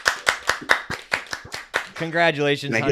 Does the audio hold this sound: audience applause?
yes